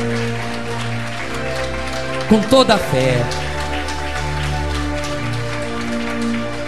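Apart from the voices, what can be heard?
congregation applause for God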